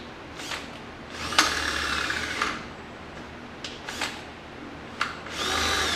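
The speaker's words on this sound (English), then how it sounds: "I've got the right drill size." A power drill whines in several short bursts, spinning up and biting into an aluminum transmission case, with pauses of quieter background between each run.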